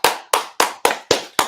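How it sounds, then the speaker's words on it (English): Six sharp hand claps in a steady, slightly uneven rhythm, close and loud, each with a quick decay, at a community theatre awards event in a black box venue. "I'm going to clap"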